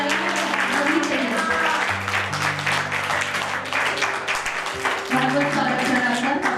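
At an art workshop, an audience claps continuously, a dense crackle of many hands over steady background music, loud and close throughout.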